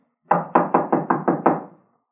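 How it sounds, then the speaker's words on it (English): Seven sharp knocks on a locked door in an old house, sounding in a quick, slightly uneven run with no talk over them. "Door's locked, all right. Well, let's try knocking."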